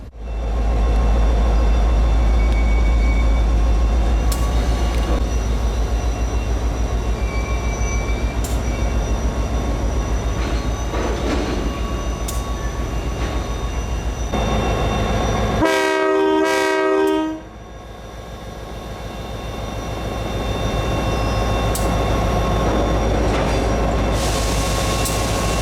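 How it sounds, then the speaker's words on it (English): An EMD SD50 diesel locomotive rumbles steadily close by as it switches railcars, with a long, loud horn blast partway through and brief metallic clanks. "While our train switches"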